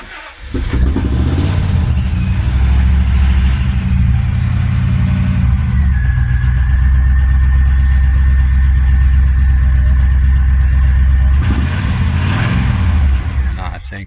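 A car engine with a suspected failing motor runs and idles loudly and close for about thirteen seconds with a steady low rumble, then cuts out near the end.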